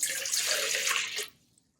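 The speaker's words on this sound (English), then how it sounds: "So we're pouring the warm water into the bowl." Warm water pours steadily into a bowl for English muffin dough, a close, full splashing gush that stops suddenly, followed by a faint drip or two.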